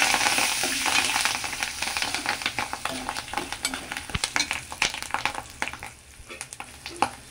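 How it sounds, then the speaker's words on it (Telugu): Curry leaves crackle and sizzle in hot oil for raw mango rice, a bright spattering fry with sharp pops and stirring clicks, close and continuous. "అలాగే కరివేపాకు, ఒక 3 రెమ్మలు కరివేపాకు అయితే వేస్తున్నాము"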